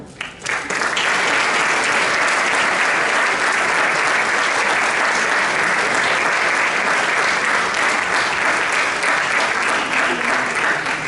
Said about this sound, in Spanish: para que pedimos un fuerte aplauso